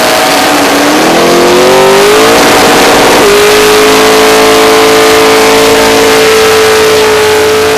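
A car engine at a SummerNats burnout event revs hard and holds a loud, steady high pitch, running rough with one cylinder misfiring, the note climbing then leveling out over a constant roar.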